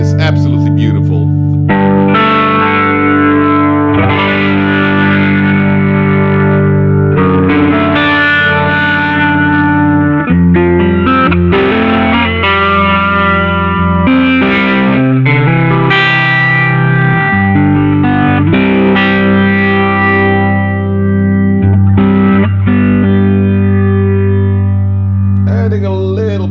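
Electric guitar played through a Boss RT-2 Rotary Ensemble pedal, chords and melodic lines swirling with a spinning rotary-speaker modulation and some overdrive, loud and continuous throughout with no talking.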